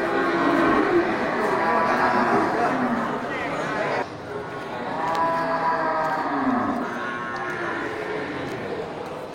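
Aceh cattle moo repeatedly at the Gelumpang Payung livestock market, their lowing calls rising over a steady crowd murmur and people talking nearby.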